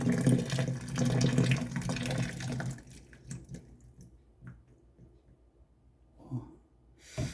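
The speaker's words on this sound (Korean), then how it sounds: "뜨거운 물을 시원하게 부어봅니다." Hot water pours in a loud rushing stream down a kitchen sink drain for a few seconds, then stops, leaving faint drips and gurgles.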